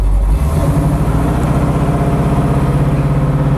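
A 1969 Chevy Camaro convertible's big-block V8 runs loud and close with a deep, steady throbbing rumble that barely varies from start to finish.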